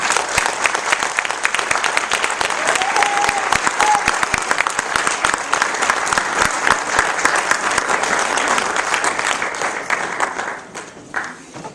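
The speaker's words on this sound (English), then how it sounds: "please give a round of applause to one of our honored guests, the Honorable Ms. Claudette Teresa." An audience at a political state of the district address applauds steadily for an honored guest, with dense, sustained clapping that tapers off at the very end.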